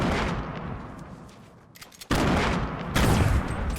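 Gunfire in a Fortnite match, a dense, loud, continuous barrage of shots and booms that dips briefly, then slams back in harder and stays sustained.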